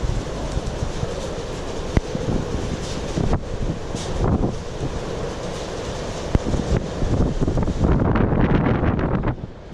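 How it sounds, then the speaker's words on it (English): Wind blows outdoors in a steady, fairly loud rush with gusty buffeting and a few sharp knocks, intensifying near the end, with no one speaking. "It is just a little bit windy out right now."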